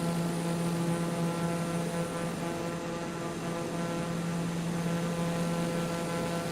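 A propeller airplane engine in Microsoft Flight Simulator 2020 drones steadily with a strong low hum and layered tonal buzz, constant and fairly loud throughout with no talking.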